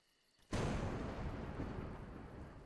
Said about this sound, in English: thunder and lightning are terrible opponents